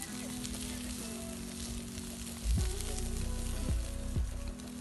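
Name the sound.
meat sizzling on a grill at a picnic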